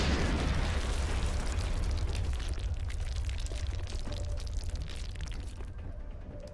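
Rocket explosions in XCOM: Long War, a heavy low rumbling blast that starts loud and rolls on, slowly fading over several seconds with no talk.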